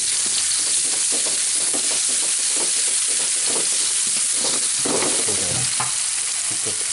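Garlic sizzling and frying in a pan for an Indonesian coconut-milk cabbage and tempeh dish, a steady close crackle with repeated stirring scrapes throughout.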